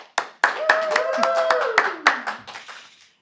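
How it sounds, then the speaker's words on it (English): A handful of scattered handclaps at an awards dinner, starting sharply and thinning out over a few seconds, with voices talking over them. "How about a round of applause?"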